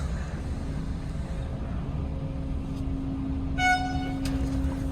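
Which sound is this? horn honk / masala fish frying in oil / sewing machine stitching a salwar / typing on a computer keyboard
horn honk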